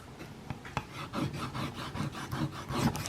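Buffing compound scraped back and forth onto tape stretched over a diamond sharpening plate, a rhythmic rasping rub of repeated strokes, close and moderately loud with no speech.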